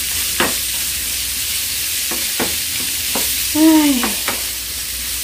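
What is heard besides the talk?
charque (dried beef) frying in a pan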